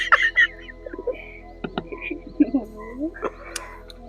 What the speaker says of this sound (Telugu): చుట్టుపక్కల అంతా కప్పలు అరుస్తున్నాయి